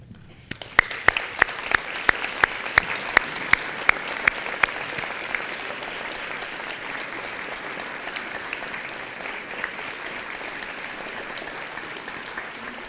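Graduates, staff, families and friends at a winter university graduation ceremony for a School of Health and Society give sustained applause. A few sharp, close claps ring out at first, then a broad, even wash of clapping runs on for over ten seconds.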